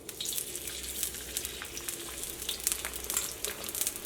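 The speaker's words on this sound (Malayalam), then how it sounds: "ഇനി ഇതിലേക്ക് സവോള ചേർക്കാം." Sliced onions fry in hot coconut oil in a pan, giving a steady, close, dense sizzle and crackle that holds evenly for the whole stretch with no talking.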